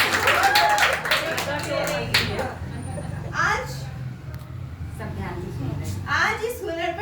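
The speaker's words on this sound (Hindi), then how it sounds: "ताली तो बजा दो।" An audience at a beauty parlor training farewell event clapping, several bursts of applause that rise and fade between stretches of talk and chatter.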